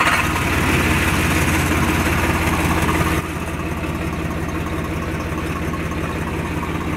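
A tractor engine runs loud and close with a steady, rough idle, then drops abruptly to a lower, quieter idle partway through and keeps chugging evenly to the end.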